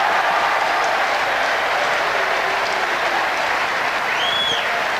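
Irish rugby supporters cheer and applaud at the Concord Oval during a 1987 Rugby World Cup quarter-final, a loud, sustained broadband roar of a big crowd with no break throughout.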